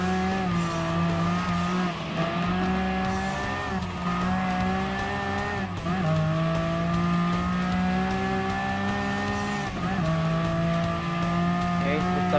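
A white and gold Enzo Ferrari racing in Gran Turismo Sport: a steady, loud engine drone that rises and falls with gear shifts and revs, with occasional tire squeal, running continuously for the whole stretch.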